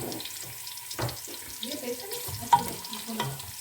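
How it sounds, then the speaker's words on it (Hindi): Onion going into a cup of hot oil for a karahi chicken dish, giving a faint, soft sizzle broken by a few light clinks and stirring noises, all at a low level. "अभी तेल मैंने गरम किया हुआ है, 1 कप तेल है, उसमें मैं ये थोड़ी सी प्याज डाल रही हूँ"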